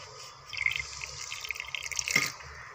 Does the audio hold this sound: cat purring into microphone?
no